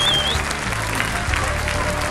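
A large crowd claps in an Italian town square during a 2009 outdoor festival show: sustained, close applause with a brief whistle near the start and a faint murmur of voices underneath.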